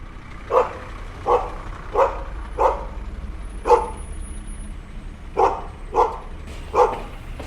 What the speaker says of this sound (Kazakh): Сосын иттің үргені,